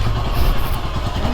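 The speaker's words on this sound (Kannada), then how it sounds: "ಸೊ ಫೈನಲಿ ನಮ್ಮ ಗಾಡಿನೂ ಆರ್ಟ್ ಆಫ್ ಮೋಟರ್ ಸೈಕಲ್ ಒಳಗಡೆ ಹೋಗ್ತಾ ಇದೆ" A Royal Enfield Himalayan motorcycle rolls slowly into a workshop, its single-cylinder engine thumping in a steady, close, low putter with some mechanical clatter and no voices.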